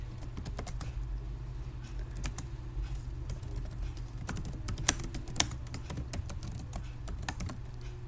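Code is typed on a computer keyboard in a quiet room, with a steady stream of soft, rapid key clicks and a few sharper taps over a low background hum.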